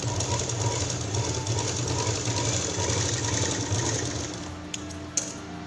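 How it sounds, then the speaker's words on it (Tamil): A sewing machine runs with a steady, rapid mechanical whir as it stitches fabric for a small key chain purse, then slows and stops, leaving a couple of light clicks at the end. "கிளாத்தை திருப்பி வச்சு ஒரு படிமான தையல் ஒன்று போட்டுக்கலாம்"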